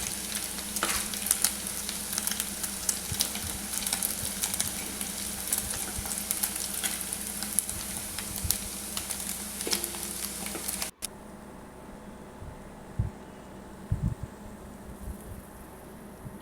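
Paneer pieces frying in oil in a pan, a steady dense sizzle and crackle running loud and close, then cutting to a quieter stretch with a few faint knocks.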